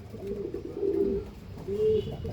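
A pigeon coos in two soft, throaty bursts at close range, low rolling calls separated by a short pause with faint background hiss.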